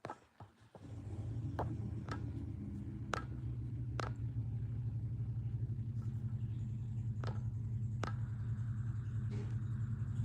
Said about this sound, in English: Y'all see how thick that traffic is?